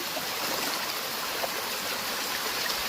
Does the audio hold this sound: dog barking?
no